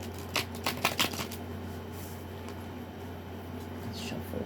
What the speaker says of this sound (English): Let's shuffle a few more and feel on it.